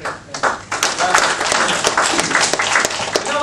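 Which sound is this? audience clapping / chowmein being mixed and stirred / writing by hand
audience clapping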